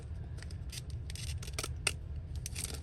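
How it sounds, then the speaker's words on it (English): Repeated crisp snips of scissors cutting paper for junk journal embellishments made from envelopes, several short cuts spaced irregularly, close and fairly quiet, over a low steady background hum. "if you just cut it with scissors"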